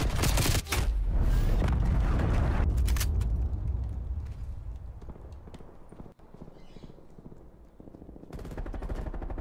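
Rapid gunfire in the Call of Duty video game, with dense, loud overlapping shots for the first few seconds that then fade into a quieter, rumbling battle backdrop before swelling again at the end.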